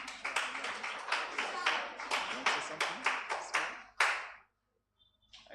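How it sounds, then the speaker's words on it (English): An indoor gathering claps in a quick run of about a dozen rhythmic, fairly close bursts that build steadily, then stop abruptly into silence, with a faint sound returning at the very end. "Clap for him."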